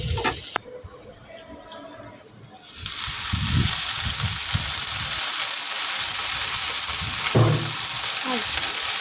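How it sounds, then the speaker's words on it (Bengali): Jute leaves frying with onion, chopped garlic and ginger: a loud, continuous hiss that swells after a quieter start, with occasional thumps of stirring; no one speaks. "আর পাট শাক আমি ভাজি পেঁয়াজ, রসুন কুচি আর আদা কুচি দিয়ে।"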